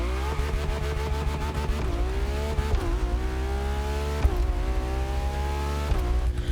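Stock Ferrari F80 engine revving in the racing game The Crew Motorfest, a loud continuous high-pitched engine note that rises and dips through several throttle blips.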